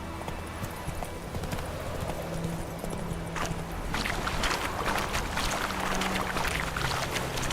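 Hooves clip-clop in a steady rhythm from a horse galloping in The Witcher 3: Wild Hunt, loud and close over a constant ambient bed, with the pace and intensity picking up in the second half.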